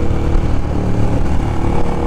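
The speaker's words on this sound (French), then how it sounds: "c'est un scooter" A steady engine drone, like a scooter or small motorbike running close by, loud and continuous without a clear rise or fade.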